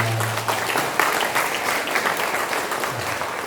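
A church congregation applauds the choir after its hymn, a full, steady roll of many clapping hands filling the room from start to finish, with a brief low tone at the beginning.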